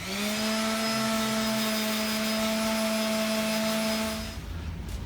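A steady, loud power-tool whine with a strong constant hum runs for about four seconds while sanding the walnut body of a homemade electric guitar, then cuts off and winds down.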